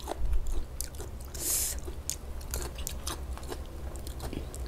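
Someone chews spicy pounded pickled crab roe salad made with Korean soy pickling brine, producing close, repeated wet crunching and biting sounds at a steady pace.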